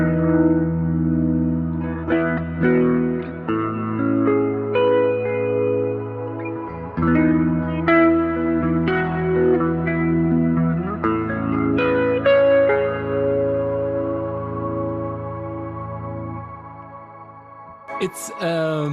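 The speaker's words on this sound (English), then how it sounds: "I added the ionosphere reverb just to have this Angels choir in the background" Guitar notes ring out through a Kemper Profiler tone with an ionosphere reverb, swelling into a soft choir-like wash behind each sustained chord and fading into a long shimmering tail.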